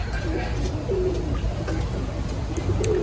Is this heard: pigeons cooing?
yes